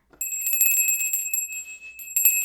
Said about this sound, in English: I love my chakra bell